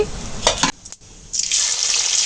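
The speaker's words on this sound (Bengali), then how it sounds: "কড়াইতে তেল দেওয়ার পর এখানে আমরা জিরা দিয়ে দিছি গরম তেলে" Cumin seeds drop into hot oil in a wok and set off a bright, hissing sizzle. A short clatter and a brief quiet come first, then the frying settles into a steady crackle.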